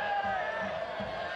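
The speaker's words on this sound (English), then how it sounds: "The crowd down in that area calling for the handball." A stadium crowd at a USL playoff soccer match between Orange County SC and Phoenix Rising FC roars steadily in appeal for a handball, a dense continuous wash of massed voices with no gaps.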